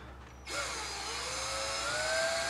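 A power drill starts abruptly and whines steadily, its pitch slowly rising as a screw is driven into a golf cart's metal frame, close and fairly loud.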